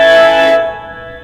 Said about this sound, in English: the echo effects at the ends of all the phrases